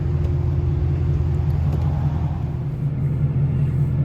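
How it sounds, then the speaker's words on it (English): Inside a 2016 Camaro SS with a muffler delete, the engine gives a deep, steady low-pitched drone and rumble that fills the cabin, holding loud and even without a clear rise in revs. "Go do a couple pulls in it. Let y'all see how it sounds from the inside."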